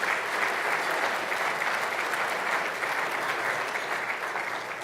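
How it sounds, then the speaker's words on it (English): A crowd at a policy luncheon applauds the event sponsors with steady, dense clapping that holds at an even level for several seconds, heard from inside the room. "Let's give all of our sponsors a round of applause"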